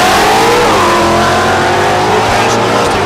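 Drag race cars, a Mustang and a Camaro, roar loudly at a drag strip event at Thunder Valley in Noble, Oklahoma, with engines revving and rising in pitch as they launch, a constant close wall of engine noise.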